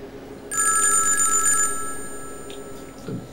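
A telephone bell rings once in a bright trilling burst lasting about a second, then fades into quiet room noise with a faint knock at the end.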